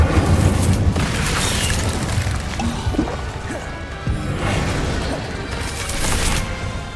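Casting the Incendio fire spell in Hogwarts Legacy sets off loud, roaring fiery bursts that swell and fade in waves over a continuous rumbling bed.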